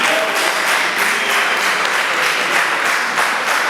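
Audience applause at a comedy show during the Susuruka Show at the Kivu Cultural Festival, a loud, sustained wash of many hands clapping that stays steady throughout, with no talk over it.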